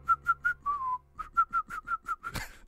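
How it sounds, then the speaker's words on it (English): A person whistles a melody in a steady run of short, clear notes with one longer sliding note, fairly close and alone, ending with a brief noisy burst. "Ryan whistled as if he didn't care."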